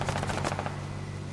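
Automatic gunfire in the tactical shooter game Squad: a loud, rapid burst of close shots rattles for about half a second, then trails into a fading echo and rumble.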